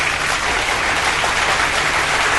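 A dense, continuous round of applause, loud and uniform with no breaks, sounding like a broad crowd clapping together throughout the short stretch.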